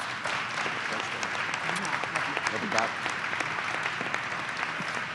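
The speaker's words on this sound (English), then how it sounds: "Please give him a round of applause." Sustained applause from an audience at Camden High School greeting Governor Chris Christie, a dense, steady wash of many hands clapping that continues evenly for the whole stretch at moderate volume.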